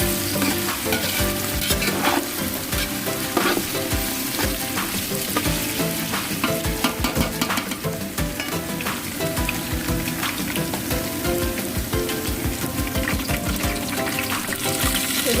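Frying for bhuna khichuri in a pan, a strong continuous sizzle broken by frequent rhythmic scrapes and taps of a spatula stirring, close up, with no speech.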